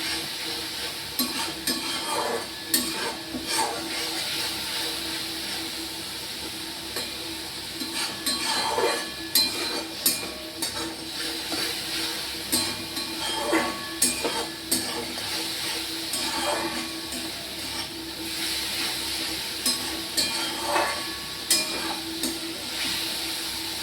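Ground spice paste is stirred and fried in a pan, making a soft continuous sizzle broken by regular scraping strokes and metallic clinks of the spoon against the pan.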